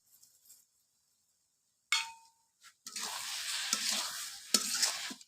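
Khesari greens curry with a pinch of sugar is stirred in a pan, opening with a few faint clinks and then a loud, close, continuous scraping sizzle with uneven surges.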